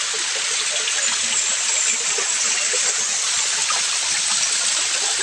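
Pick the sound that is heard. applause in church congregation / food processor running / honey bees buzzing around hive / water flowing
water flowing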